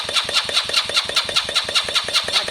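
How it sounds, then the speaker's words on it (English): The starter turns over a Lexmoto Valiant motorbike engine, a fast, even, repeated churning with about a dozen regular beats, close and loud, without catching. "Kind of turn the bike over on the starter."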